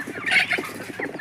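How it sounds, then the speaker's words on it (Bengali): Chickens on a small backyard poultry farm of about fifty birds give a quick burst of clucking and squawking, close and fairly loud, with no talk. "আমার 50 পিস মুরগি আছে"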